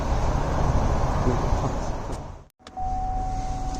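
A 2017 Cadillac XT5 starting up in a parked position: steady idle rumble, a brief drop to near silence, then the engine catching and settling into an even hum with a faint high whine.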